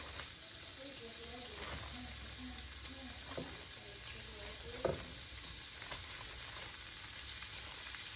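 Shrimp fry in a pan for a Cajun jambalaya pasta with a quiet, steady sizzle, a few light utensil taps and a faint voice in the background.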